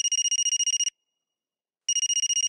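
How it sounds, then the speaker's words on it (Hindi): An electronic phone ringtone sounds in a Bhojpuri film scene: a rapid, trilling electronic ring, then a pause and a second ring, clear and close with no voices. "बाबा फोन की घंटी जा रही है।"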